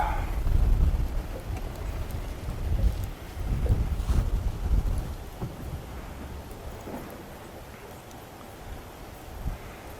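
Wind blows outdoors on water during a fishing outing, heavy low rumbling gusts buffeting the microphone that swell strongly at first and then ease into a steadier, softer wash.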